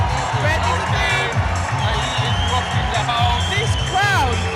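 A boxing fight-night arena crowd roars and cheers continuously, a dense loud wash of voices with whoops, while a commentator talks over it.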